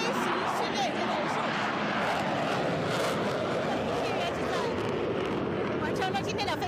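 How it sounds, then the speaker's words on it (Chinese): JL-8 two-seat trainer jets of the Red Eagle aerobatic team flying at the Zhuhai airshow, a steady broad roar of jet engine noise that holds throughout without a break. "看到这型飞机呢，就是红鹰飞行表演队的表演机教八飞机，可以看出来是2个座舱。"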